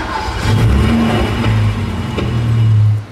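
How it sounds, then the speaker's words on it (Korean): Hyundai Grandeur sedan engine starting at a new-car launch event, a brief starter crank followed by a close engine catch and rev that settles and fades within a few seconds. "자, 한번 시동을 한번 해볼까요?"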